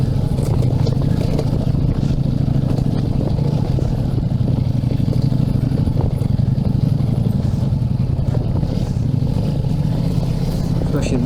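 A 2022 Ducati Multistrada V4S is ridden off-road, with a loud, steady engine drone and wind rumble throughout, close up and unbroken.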